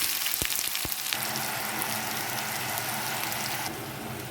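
Onions hitting hot oil already seasoned with mustard seeds, fennel seeds and fenugreek, sizzling steadily and close up, with a couple of sharp knocks near the start and no talk.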